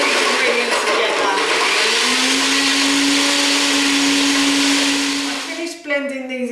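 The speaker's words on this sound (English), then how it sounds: "I've turned the blender on at the wall, so now I'm just going to blend all of these ingredients together" Countertop blender whirring steadily and loudly as it blends chocolate turmeric tea ingredients with dates, the motor pitch rising and wobbling near the end as the mix loosens.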